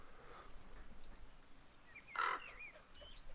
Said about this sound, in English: There's a handful of birds in here making just nice noise. Just nice chatter